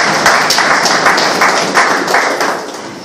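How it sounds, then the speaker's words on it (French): A church congregation applauding after a call during a sermon, dense rhythmic clapping from many hands, loud and close, steady before tapering slightly toward the end. "Applaudissez mon Dieu."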